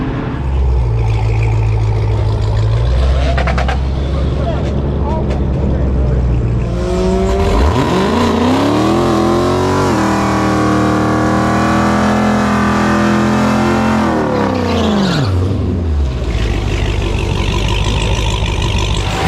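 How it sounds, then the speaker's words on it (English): A Dodge Challenger-style Hellcat Redeye Charger and a Tesla Plaid launch in a drag race at a strip, a loud supercharged V8 roaring and revving over steady crowd and track noise, rising and falling as the cars pass. "Project Tantrum, the Hellcat Redeye, lining up with Andrew in the Tesla Plaid channel."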